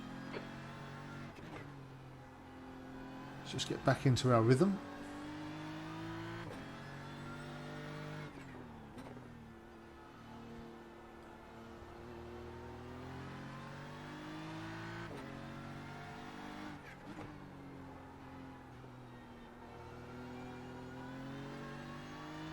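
A BMW M4 GT3 race car in the iRacing sim at Fuji, its engine droning steadily through gear changes with a brief louder rev burst early on, while someone talks over it.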